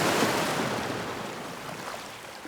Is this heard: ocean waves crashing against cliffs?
yes